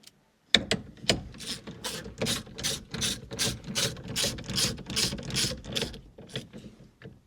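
A steering wheel nut on a Honda EK Civic column is wound on with a ratchet, giving a steady run of about a dozen rapid, close clicking strokes with brief pauses, heard alone.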